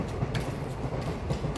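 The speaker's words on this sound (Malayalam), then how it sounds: "ബാക്കിൽ ട്രെയിൻ പോകുന്ന സൗണ്ട് നിങ്ങൾക്ക് കേൾക്കാം." A train passes in the background of an evening walk, a faint continuous rumble with soft rail clatter heard from a distance.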